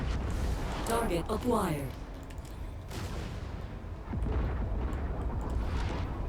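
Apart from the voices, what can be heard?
missile explosions in video game MechWarrior 5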